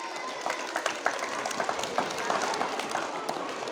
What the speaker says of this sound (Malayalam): ഫാദറിന് നല്ലൊരു കയ്യടി കൊടുക്കൂ മക്കളെ.